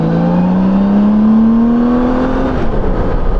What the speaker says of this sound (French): Donc là, je suis en deuxième à 50, poignée dans l'angle.